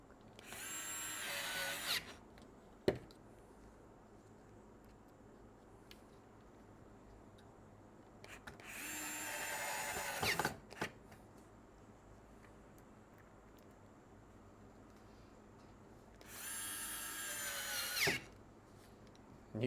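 A KATERK 4V cordless screwdriver drives small screws in three separate whirring bursts, each with a brief twist and click at the end, separated by quiet pauses.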